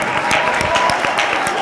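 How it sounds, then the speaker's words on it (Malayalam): A church audience at a pastor's service in Alleppey clapping hands, a dense, loud burst of applause filling the room briefly. "നിങ്ങൾ കരമടിക്കുന്ന ശബ്ദം പുറത്തു വരട്ടെ"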